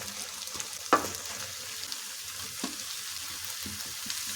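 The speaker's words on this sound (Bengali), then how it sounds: "এখন আমলকিটা দিয়ে দিচ্ছি" Amla frying in a pan with ginger and turmeric: a steady quiet sizzle with a sharp clatter near the start and a few soft stirring knocks, no voices.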